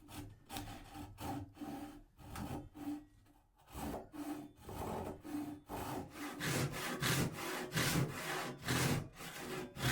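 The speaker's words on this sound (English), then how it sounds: "So I've been refining my technique with this Japanese ryoba." Hand sawing wood with a Japanese ryoba pull saw for dovetail joinery, a steady run of close, rasping strokes in a regular back-and-forth rhythm, with a brief pause partway through.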